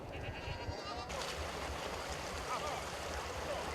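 Sheep and goats bleating on a grazing farm kept by a mineral production unit, the calls rising out of a steady rushing, noisy background that continues throughout.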